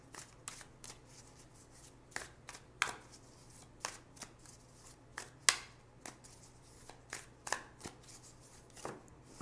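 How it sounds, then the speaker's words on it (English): Tarot cards being shuffled and drawn by hand, a run of close, quiet riffles and soft snaps arriving in uneven bursts with short pauses between, no voices. "So now I'm going to choose two cards for guidance."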